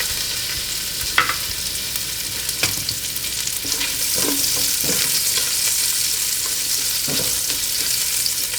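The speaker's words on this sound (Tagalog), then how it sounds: "Ngayon, igigisa na natin yung sibuyas." Sliced onions sauté in extra cooking oil in a pan, a steady close sizzle and crackle throughout, broken by a few scraping clicks of a utensil stirring, with no talking.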